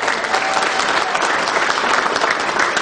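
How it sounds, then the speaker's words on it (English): Steady applause from a sizable crowd, dense clapping that holds evenly throughout without pause or speech. "If we can have another round of applause for Congressman Paul Tonko"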